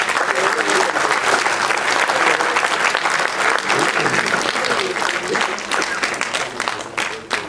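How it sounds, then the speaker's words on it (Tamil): An audience at a CD launch event in Singapore claps loudly and continuously, a dense wash of many hands that thins slightly toward the end. "பலத்த கைத்தட்டல் வழியாக"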